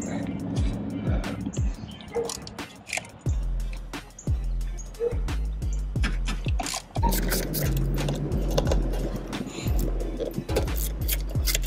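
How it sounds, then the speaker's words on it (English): An 8 mm socket on a ratchet clicks in rapid bursts while the throttle body bolts come off a Mercury Grand Marquis, with repeated short sessions of ratcheting, close and crisp, and a voice speaking now and then. "Size 8 ratchet, or size 8 socket."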